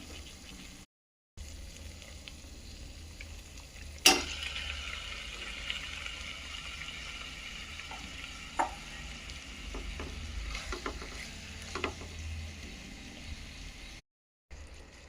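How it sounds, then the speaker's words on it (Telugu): Prawns with tomato fry in oil for a prawn and okra curry, a continuous close sizzle broken by sharp spatula clicks and a louder scrape early on, with short gaps of silence at the start and end. "ఆ వాటర్ అనేది ఇనికిపోయి ఆయిల్ బయటకు వచ్చే వరకు వేయించుకోవాలి"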